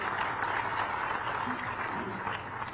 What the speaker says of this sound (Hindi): इस क्षण का आप जोरदार तालियों के साथ